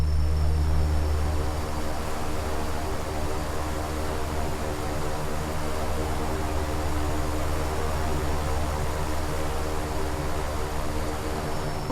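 Twin turboprop engines of a King Air C90B taxi in the X-Plane flight simulator, a steady, loud, droning propeller hum with a constant high whine that holds for the whole stretch.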